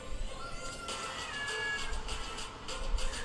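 A house cat meows several times indoors, drawn-out tonal calls rising and falling over a faint background hum, fairly close and with no talk.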